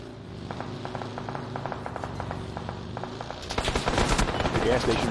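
Rapid automatic gunfire from a gas station in a video game, a steady run of bursts that swells louder and denser near the end, with a voice talking over it.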